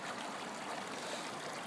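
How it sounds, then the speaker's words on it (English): A sizeable creek runs through a wooded hollow in winter with a continuous rushing and trickling flow, steady and close, and no voices. "Got a nice sized creek running through here."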